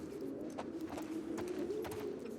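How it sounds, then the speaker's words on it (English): Pigeons coo softly in an abandoned Seattle building in The Last of Us Part II, a faint, steady murmur of calls broken by a few soft, scattered taps. "Sounds like this place has all the pigeons."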